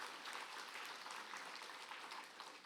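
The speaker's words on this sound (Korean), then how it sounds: "우리 크게 우리가 할렐루야 찬양 박수 한번 하도록 하겠습니다." A church congregation applauds after a Christmas-season hymn at Sunday worship, giving soft, distant, continuous clapping with a sustained, even texture throughout.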